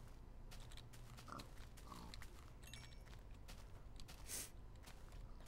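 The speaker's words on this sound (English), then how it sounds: "Oh, wow. That's a lot of pigs." Pigs grunting in Minecraft, a few short blocky oinks scattered over soft footsteps and clicking, fairly quiet in the mix.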